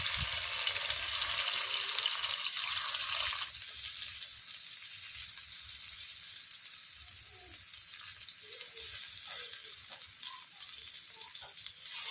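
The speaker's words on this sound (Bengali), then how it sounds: "চাল কুমড়োর পাতাগুলোকে আমি এরকম করে কড়াইতে দিয়ে দিচ্ছি।" Ash gourd leaves hit a hot wok with a loud, dense sizzle that softens after a few seconds into a quieter, steady crackle with faint scattered pops.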